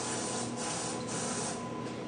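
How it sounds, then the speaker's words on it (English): Nonstick cooking spray hisses from a can onto pastry dough, a close continuous aerosol spray lasting about two seconds with faint pulses in its strength. "I'm going to spray them with a little bit of nonstick spray"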